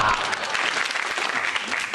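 A studio audience claps loudly and evenly for two seconds, dense applause right up front from start to finish, with no talking over it.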